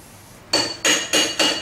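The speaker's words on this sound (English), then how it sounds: "So I'm just going to use a soft hammer here and pound this on." A soft hammer pounds a part onto an electric motor for a Honda Civic EV conversion, four evenly spaced, dull, close thuds with no talking.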